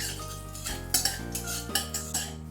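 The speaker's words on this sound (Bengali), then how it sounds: "গোটা জিরেটা ফোড়ন দিয়ে দিলাম, দিয়ে একটু নেড়ে নিচ্ছি" Metal spoon clinking and scraping against a pan while whole cumin seeds temper in hot oil, a few sharp taps over a faint background sizzle.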